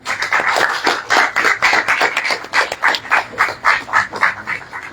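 An audience at a book presentation applauds, giving a dense, steady round of clapping from many hands that rises quickly and holds for several seconds.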